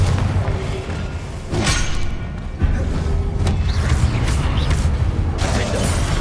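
Confringo blasting spell going off in Hogwarts Legacy: loud booming bursts with a crashing, rumbling tail over continuous game noise, one sharp impact standing out midway.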